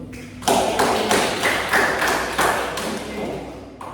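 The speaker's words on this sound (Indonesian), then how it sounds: "Kita beri aplaus dulu." Classroom of students clapping together for a classmate's answer during a civics lesson, a dense burst of applause starting abruptly and continuing steadily with uneven rhythm, fairly loud and close.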